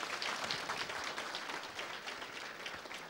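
A gala audience applauds steadily, dense even clapping at moderate volume with no voices over it.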